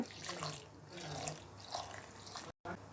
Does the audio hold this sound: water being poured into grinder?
yes